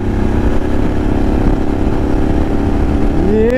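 A BMW F850 GSA motorcycle pulls hard after an upshift, its engine a loud, steady, close drone that begins climbing in pitch at the very end.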